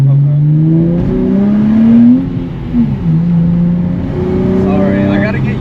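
A 2024 Nissan 400Z engine revs and pulls through clutch engagement, a steady droning hum rising and falling in pitch as the car drives, loud and close, with brief talk inside the cabin.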